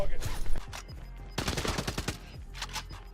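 Rapid bursts of automatic gunfire in the video game Call of Duty Warzone crackle in close, loud volleys, then pause before more scattered shots near the end.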